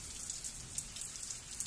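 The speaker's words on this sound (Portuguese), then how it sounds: "Tá vindo uma chuva forte" Heavy rain falls in the Pantanal, a dense, faint, steady patter of drops on surfaces with scattered sharper impacts and no voices.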